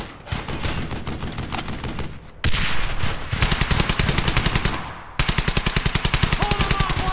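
Rapid machine-gun bursts in the World War II shooter Brothers in Arms: Hell's Highway, loud and close, with sustained rattling volleys broken by a short pause before a fresh burst of evenly spaced shots.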